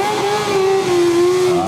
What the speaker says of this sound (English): bouncing it off the rev limiter.